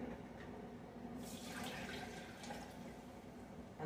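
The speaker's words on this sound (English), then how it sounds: "I guess I'm just going to dump this now. 1 cup of water and 1 cup of heavy whipping cream" Water and heavy whipping cream are poured into a cooking pot, a soft, steady splashing pour that swells briefly in the middle and stays fairly faint and close.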